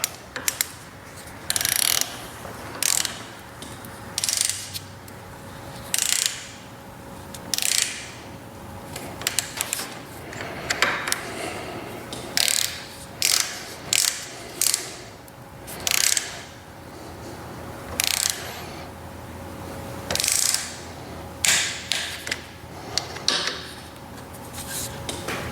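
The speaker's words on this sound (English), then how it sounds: "Ratchet here, this is a sonic ratchet." Sonic ratchet tightening mountain bike parts to 5.5 Newton meters: repeated short, loud bursts of close ratcheting clicks, some fast and some spaced, over a quiet workshop background.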